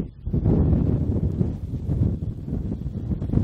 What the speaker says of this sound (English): We got about a 10 mile an hour wind on average, gusting sometimes up to 15.